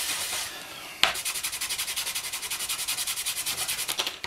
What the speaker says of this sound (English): Make sure you give the back a quick rub as well.